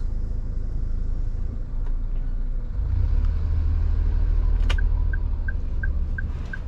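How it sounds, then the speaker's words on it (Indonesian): Low engine rumble of a heavy vehicle on the road grows louder partway through, with a short run of faint evenly spaced beeps near the end. "Wah, ada truk tadi."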